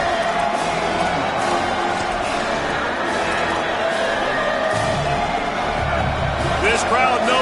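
Continuous roar of a college football stadium crowd during a big moment, loud and sustained across the whole stretch, with a swell of cheering near the end and other voices mixed in.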